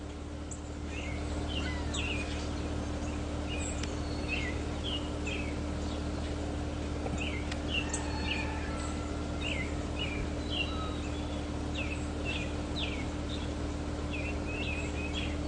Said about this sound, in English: They're just all over the place this morning, all these seabirds.